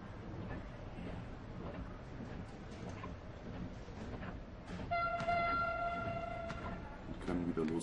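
Suspension railway train in the game Schwebebahn-Simulator 2013 pulling away from a station after the doors close, a steady rumbling run with a sustained horn-like tone sounding partway through, loud and close.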